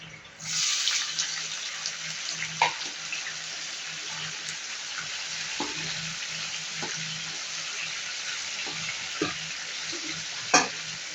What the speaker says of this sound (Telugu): ఇప్పుడు టమాటా ముక్కలు వేసుకుందాం.